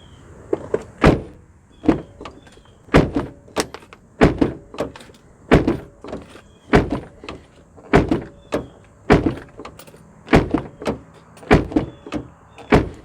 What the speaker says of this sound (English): let's go slam these cables into a car door